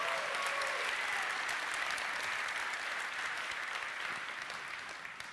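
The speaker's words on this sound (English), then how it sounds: "you got to clap at the old stuff too" A launch-event audience for NVIDIA GeForce RTX applauds with sustained, dense clapping that carries evenly from a moderate distance and tapers slightly toward the end.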